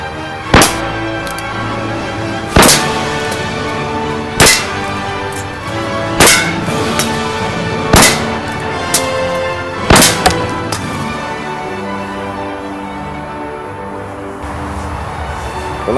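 Colt revolver shots fired at autumn target practice outdoors, with roughly seven sharp, loud reports spaced a second or two apart, each followed by a short ringing decay.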